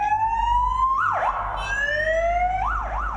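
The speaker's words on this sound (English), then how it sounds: "The officer was on his way to test the sirens on his motorbike" A police motorbike siren being tested sounds loud and close, with a rising wail broken by quick warbling yelps and a steady engine rumble underneath.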